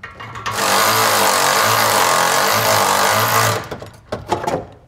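Ratchet or impact wrench with a 15mm deep well socket loosening the nut on an exhaust band clamp of a 2021 Jeep, a loud steady mechanical buzzing run for about three seconds followed by a few short bursts.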